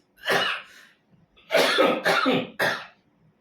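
A person coughs several times up close, one cough followed after a pause by a quick burst of three harsher coughs, with no talking.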